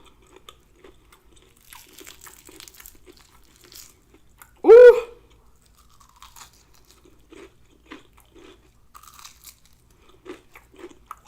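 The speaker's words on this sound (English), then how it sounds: "That crunch though." Homemade battered fried chicken gives one loud, close crunch as it is bitten, followed by quieter chewing, with a brief voice heard just before.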